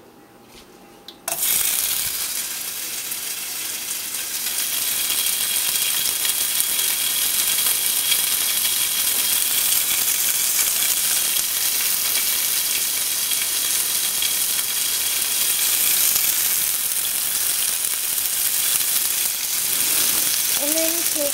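Meat for a breakfast burrito drops into a hot pan and erupts into a loud, steady sizzle that holds for about twenty seconds, close up, with a faint clink near the end.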